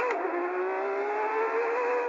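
An Aston Martin Valkyrie hypercar engine sustains a loud, high-pitched, steady wail at high revs, droning continuously without pause.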